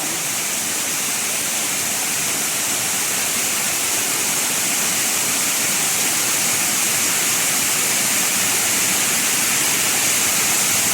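A loud, steady rush of water flowing down near a cave in Fung Tak Park, Hong Kong, dense and continuous like a cascade, with no pauses or voices throughout.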